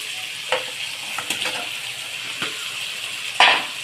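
Fried pabda fish go into hot oil and spices, sizzling steadily up close, with a few sharp clinks and scrapes of a utensil against the pan and one louder clatter near the end; no talking.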